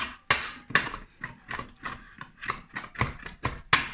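Garlic being chopped with a little salt on a cutting board, about a dozen quick, crisp knife taps in an uneven rhythm, close and fairly quiet.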